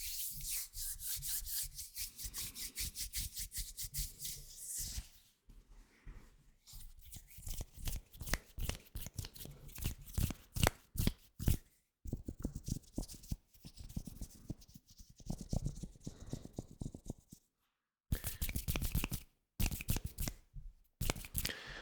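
Close, dry rubbing and swishing of hands, in rapid bursts with brief pauses, soft and intimate throughout.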